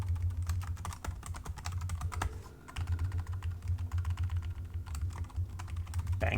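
Fast, dense typing on a computer keyboard during Unity game development, a continuous close rattle of keystrokes with only a brief pause partway through and no talking.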